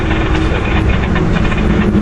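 Intermodal freight train led by locomotive 9503 rolling past near an Interstate 81 overpass, a steady loud broadband rumble of engine and rail noise with no break across the short stretch.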